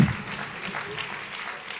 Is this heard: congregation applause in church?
yes